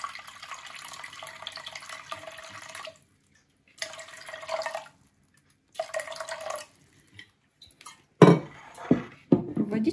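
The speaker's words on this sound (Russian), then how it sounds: "Для начала наливаем примерно 700 мл воды." Water pours from a tap into a container on kitchen scales for sourdough bread dough, several short bursts of splashing flow separated by pauses, then clinks and handling of the container near the end.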